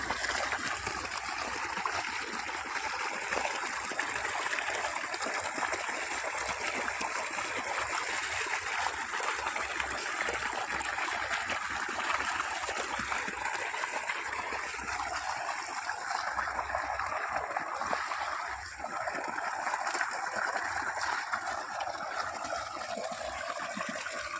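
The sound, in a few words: clear water flowing and trickling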